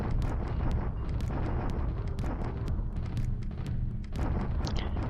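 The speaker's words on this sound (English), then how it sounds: "Starting off with bombardment." Artillery bombardment in the wargame Focus Pacific: a continuous, dense rumble of heavy booms and blasts that rolls on without pause, loud and close, with no voices.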